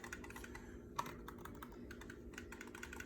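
Clicky buttons on an Xbox Elite Series 2 controller are pressed in a quick, irregular run of crisp, faint close-up clicks with no talk.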